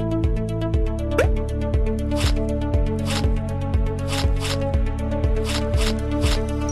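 Surgery video game sound of skin being cut open: a steady run of soft, wet, rhythmic squelching clicks repeating about twice a second over a looping background tone.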